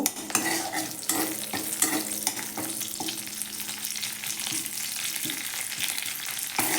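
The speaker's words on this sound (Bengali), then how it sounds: "কারি পাতা সরষা ছং করে দিলাম" Curry leaves and black mustard seeds sizzle loudly in a hot tempering, with continuous close frying crackle and stirring scrapes, no voices.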